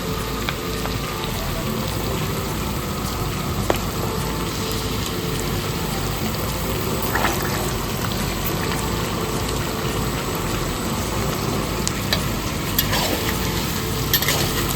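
Onions and capsicum fry in a pan while being stirred, a steady dense sizzle with soft scraping running unbroken for about fifteen seconds, close and moderately loud.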